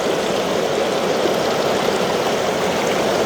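Water rushes steadily through a gold panning sluice outdoors, making a loud, continuous broadband wash close to the listener with no pauses.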